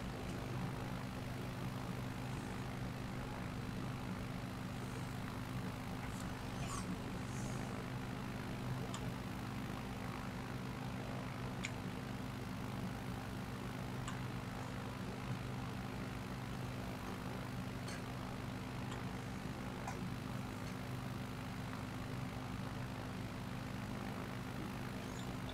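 Steady propeller airplane engine drone from the Flight Simulator video game, a constant low hum with a few faint high clicks, no talking over it.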